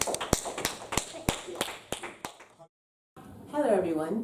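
Sharp, evenly spaced hand claps ring out at the end of a church service, about eight beats in a steady rhythm, then a brief silence before a voice starts talking.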